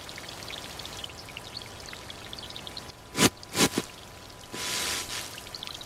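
Heavy rain falls in a dramatized rural scene, a constant soft downpour hiss broken by a few loud splashing gushes and a longer pouring wash near the end.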